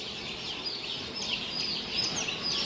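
Rhode Island Red layer chicks at a hatchery chirp continuously as a dense chorus of high, overlapping peeps, steady and fairly close throughout.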